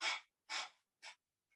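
Deep yoga breathing, three breathy exhales in slow rhythm, each shorter and softer than the last, close and quiet with silence between, ending in a faint trace.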